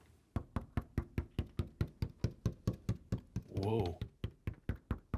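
Fingers tapping on a very thin maple drum shell veneer, about 1/36 inch thick, held up by hand: a steady run of about twenty close, crisp knocks, with a brief burst of voice partway through.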